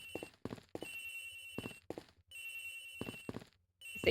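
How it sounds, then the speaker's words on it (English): A mobile phone rings somewhere aboard an airliner in the video game Ace Attorney Investigations, a series of repeated electronic ring bursts separated by short gaps, quiet and alone without talk. "Agent Hicks's phone. It's ringing from somewhere, sir."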